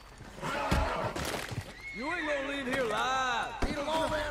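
A horse in Red Dead Redemption 2 gives a loud, wavering whinny, followed by snorts and a thudding knock, while someone talks over it.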